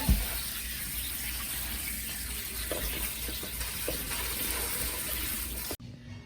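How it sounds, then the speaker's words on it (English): Cold tap water runs steadily over cooked pasta for a cold BLT pasta salad, a loud, continuous gushing stream into the sink that cuts off abruptly near the end. "I'm just gonna give it a really good rinse in cold water."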